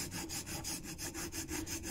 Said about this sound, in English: keep the wheel on the stone once you're used to sharpening it